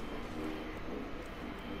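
A helicopter in the video game Plants vs. Zombies Garden Warfare 2 gives off a steady low droning whir with faint rhythmic pulsing, fairly quiet and continuous with no talk over it.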